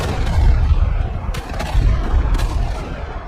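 Artillery fire pounds the ford at Moissy in Normandy: a dense, continuous low rumble of booms and gunfire, with a couple of sharp cracks standing out, loud and unbroken throughout.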